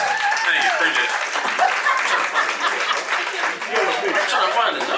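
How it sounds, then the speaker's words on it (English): Applause with clapping and some chuckling from guests at a 60th birthday celebration, a steady spread of hand claps heard close and fairly loud throughout, with voices talking and calling out over it. "Can we get a round of applause"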